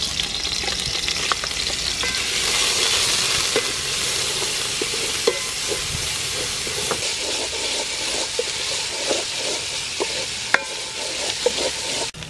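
Onion and broccoli frying in hot soybean oil for a palm fruit curry with chicken, a steady loud sizzle and hiss with occasional stirring clinks and scrapes, no voices.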